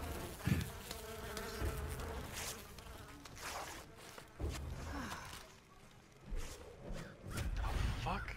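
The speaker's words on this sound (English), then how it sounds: "Ah, bees!" Bees buzz around the player in Far Cry 5, a close, wavering insect drone that swells and fades over several seconds amid game noise and brief voice exclamations.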